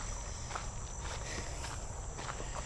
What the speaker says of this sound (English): There's a bunch of crickets out